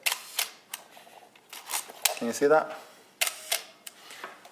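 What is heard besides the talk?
Olympus OM-1 film SLR shutter and aperture clicking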